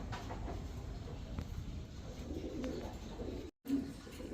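Black tiger Danish pigeons at a pigeon loft, soft cooing that rises and falls under faint background noise, with a brief dropout near the end.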